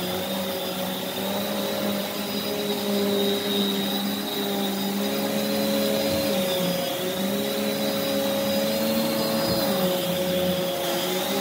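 A Prolux X8 Elite backpack vacuum cleaner runs without a break, giving a loud, even whine with a steady motor hum underneath and slight shifts in tone as the nozzle moves.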